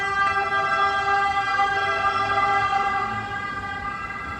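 An ambulance siren wails steadily and fairly close, its rising and falling tones holding throughout against a low rumble of background noise.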